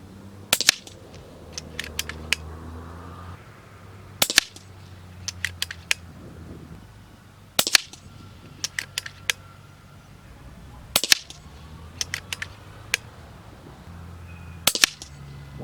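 An FX Crown air rifle firing H&N .218 slugs of 27 grains, sharp loud cracks spaced every few seconds, each with a short metallic clatter of cycling right after, no talking.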